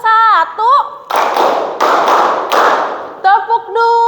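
A school class clapping on a teacher's call, loud group claps close by in a short burst, with children's voices chanting around them.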